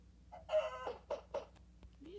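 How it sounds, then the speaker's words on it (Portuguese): Chickens in the video game Minecraft cluck in a few short, close bursts, one higher squawk followed by two quick clucks over a low background hum, with no talking. "Essas galinhas vêm junto, acho que é pra te dar ovo."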